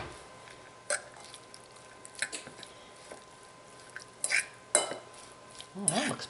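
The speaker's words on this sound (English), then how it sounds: "let's stir it up and see what we got here." Meat pie filling of beef stirred in a pot, with soft wet squelches and scattered clinks of a spoon against the pot, fairly quiet and close, busier toward the end.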